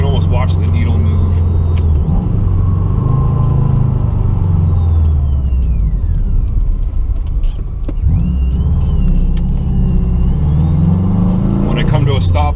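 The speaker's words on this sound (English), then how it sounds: "That turbo spool up coming uphill." A car's turbocharged engine labouring uphill with a heavy, fuel-hungry fault, deep engine rumble and rising turbo whine swelling and easing over several seconds, with someone talking over it close to the microphone.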